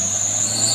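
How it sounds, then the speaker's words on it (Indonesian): Daihatsu Grand Max engine pulling hard uphill on the Kedabuhan climb, a steady near drone with a constant high whine and low rumble, no voices. "Oke, Grand Max. Langsung digas."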